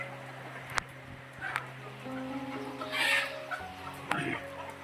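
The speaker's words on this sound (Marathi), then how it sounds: "हे कोंबड्या आहेत" Country chickens cluck in short, scattered bursts nearby, with a brief sharp noise and a possible dog bark mixed in over a low steady background hum.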